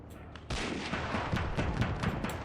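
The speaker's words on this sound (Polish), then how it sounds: "Oni powinni mieć jakieś armaty." Artillery cannon fire in the video game Call to Arms: a dense, continuous roll of booming blasts and crackling gunfire, loud and sustained after a sudden onset.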